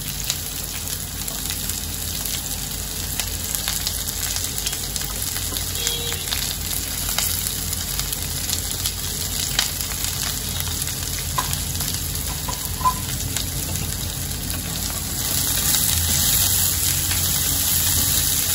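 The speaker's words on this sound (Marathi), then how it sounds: "सर्वांना एकत्र मी तेलामध्ये चांगलं परतून घेते" Finely chopped onion fries in hot oil for Khandeshi kande pohe, a constant close hiss and sizzle with occasional stirring scrapes, steady and even for the whole stretch with no talking.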